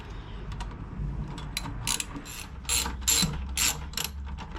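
A ratchet loosens the bottom bolt on the front wheel of a 2008 Kawasaki Concours 14 motorcycle, giving close, crisp clicking pawl bursts in uneven strokes that grow louder toward the middle.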